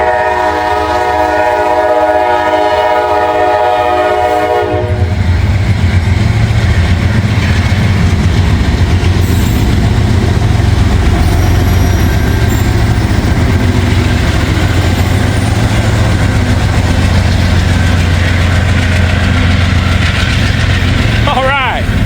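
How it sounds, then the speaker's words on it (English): A train passes close by, opening with a loud, sustained multi-tone horn blast that gives way to a heavy, continuous roar of engine and rail cars rumbling past, with a brief squeal near the end. "I rolled just in time for a train"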